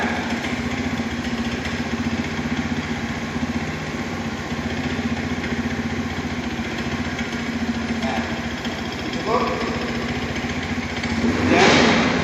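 A fuel-injected motorcycle engine idles steadily and close by throughout while the idle speed is being adjusted, with a faint rise in pitch and loudness near the end and no talk.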